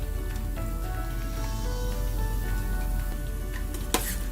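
Cauliflower florets deep-frying in oil in small batches give a continuous, dense sizzle with crackling bubbles and a few sharper pops near the end, close and steady with no voices.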